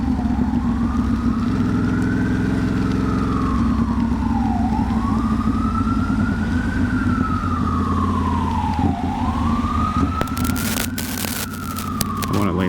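An ambulance siren wails in slow rising and falling sweeps through Brooklyn-to-Bronx traffic on a rainy Friday, heard over a steady engine and road rumble, with brief clatter near the end.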